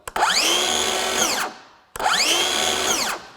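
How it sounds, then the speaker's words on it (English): A Craftsman V20 brushless 7-1/4 inch cordless circular saw spins up twice, each time whining at full speed for about a second before the electric blade brake winds it down sharply, with a short gap between runs and no talk. "The way the saw works, turns on and has the blade brake is awesome."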